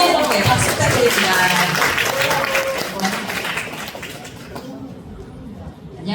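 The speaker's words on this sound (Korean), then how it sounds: "여러분 다시 한번 박수 부탁드려요" Audience applause at a Korean counseling and public-speaking workshop, a dense wash of clapping mixed with crowd chatter and babble that thins out toward the end.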